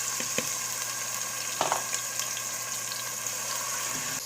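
Sliced onions fry in hot oil in a pot, giving a steady, close sizzle with a few stirring scrapes and clinks, and no one talking.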